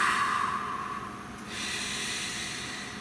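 One slow, deep breath drawn in and let out close by, a soft airy hiss that swells and then fades, with no talking.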